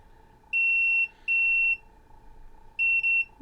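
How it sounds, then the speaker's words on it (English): A multimeter in continuity mode beeps three times, two steady tones then a third slightly broken one, each about half a second long, clear and alone in a quiet room. "Set the multimeter to continuity mode so it makes a beep"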